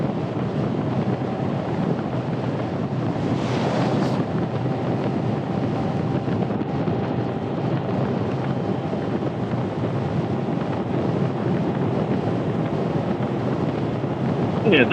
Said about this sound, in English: at least the wind's blowing from right to left